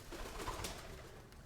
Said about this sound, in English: That is this annoying pigeon that will not stop cooing at me.